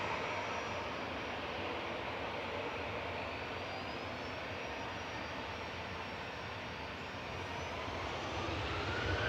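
Ryanair jet airliner rolling for takeoff at Manchester Airport, a faint, distant, steady engine rumble and roar that swells slightly toward the end, no talk.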